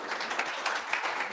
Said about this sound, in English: let's give Carrie a round of applause